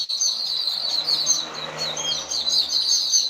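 Sparrows chirp busily and continuously while pecking at biscuit crumbs, a dense flock of bright, overlapping tweets heard close by with no talking.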